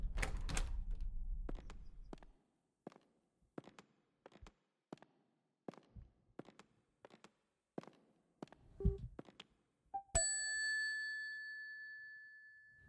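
A doorbell chime in a horror video game rings out at the end as a bright, sustained ding that fades slowly, after a run of sparse, hollow footstep-like clacks in a quiet room.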